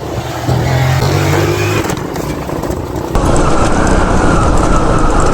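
A modified Yamaha R15 V2 motorcycle engine revs loud and close, a sustained roar that steps up sharply about halfway through and holds at high revs, with no talk.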